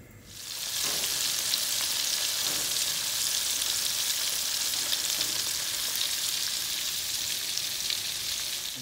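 Pieces of snakehead fish fry in hot oil until crispy, starting with a loud burst of sizzling that settles into a steady, close, crackling hiss.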